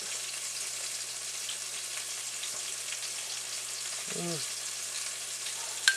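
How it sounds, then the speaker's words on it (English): Peppers sizzle steadily in a frying pan while being cooked for a tomato sauce, a constant close hiss with a brief clink of a utensil near the end. "After I'm done with the frying these peppers"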